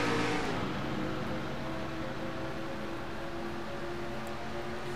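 Several race cars in a NASCAR Nationwide Series video game accelerate on a restart, a loud, steady engine drone with layered harmonic tones holding throughout after a brief louder onset, with no talk over it.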